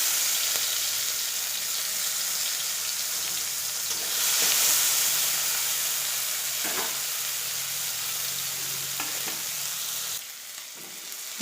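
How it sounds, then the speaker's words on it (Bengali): Fish sizzling as it fries in hot oil in a wok, a steady loud crackle that lasts throughout, with a brief swell of hissing midway and a few stirring clatters; no one speaks. "মাছগুলো আমি কড়াই দিয়ে দেবো।"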